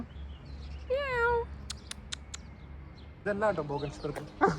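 A cat gives a drawn-out meow, followed by a few short bird-like chirps and another cat vocalization near the end, with quiet background noise.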